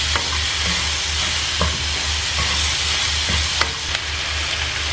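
Onions and tomatoes coated in spices sizzle steadily in hot oil while being stirred, with scattered scraping clicks of the spoon over the continuous frying hiss, close and fairly loud.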